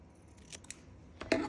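Scissors snip through silk thread, a couple of quiet cuts ending in a sharper, louder close snip, alone with no talk.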